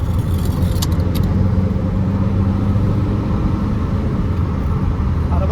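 A Fiat Palio driving with its engine droning at a steady pitch after a downshift into fourth gear, road and cabin noise filling the background, a few light metallic jingles near the start.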